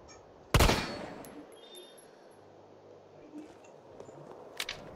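A single sharp gunshot in Resident Evil 3 Remake rings out near the start, loud and close, followed by a fading tail and quiet game ambience, with someone talking.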